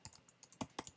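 A few quick keystrokes on a computer keyboard, soft and close, arriving in small uneven clusters of taps with short gaps between them.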